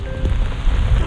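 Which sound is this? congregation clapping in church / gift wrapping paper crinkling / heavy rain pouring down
heavy rain pouring down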